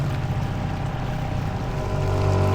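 The outboard engine of a small sailboat runs steadily at low speed near a river in Greenland, a continuous low droning hum with a slight rise in loudness toward the end and no talk.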